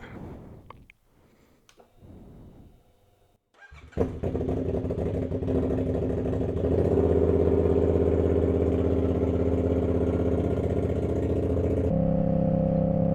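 A CFMOTO 450SS motorcycle with a freshly flashed ECU cranks after a few faint clicks, fires up and settles into a loud, close, steady engine drone that builds as it rides off, with no talking.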